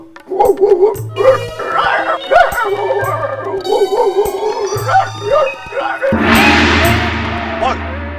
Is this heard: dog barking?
yes